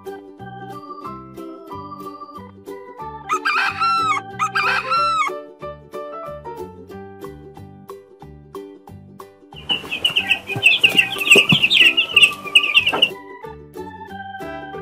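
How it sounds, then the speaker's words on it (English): A rooster gives a couple of short crowing calls, then after a gap a longer, loud burst of crowing and squawking clucks, all over quiet background music. "Rooster."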